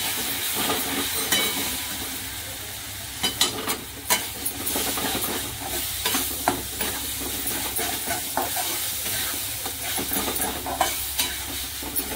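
Cooked vegetables for Marathi aloo fatfata stirred in a hot pan: a spoon scrapes and knocks in an irregular rhythm over a constant sizzle, close and fairly loud, with no voices.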